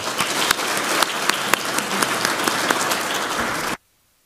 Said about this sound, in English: Can you join me in giving them one more round of applause for joining us here?